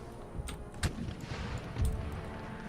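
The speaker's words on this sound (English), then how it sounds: "Canister shots." Canister shot artillery fire in the Empire: Total War video game, heard as two sharp booming blasts roughly a second apart over a steady rumbling battlefield ambience.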